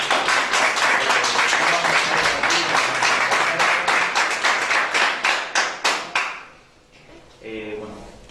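An audience at a Spanish-language event claps steadily, loud and sustained at first, then thins into a few separate claps that stop. After a brief pause a voice speaks.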